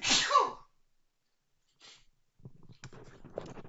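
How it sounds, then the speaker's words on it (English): A single loud close sneeze bursts out, followed by silence, then softer sniffing and breathy sounds nearby; no speech. "It was almost 20 sneezes in a row."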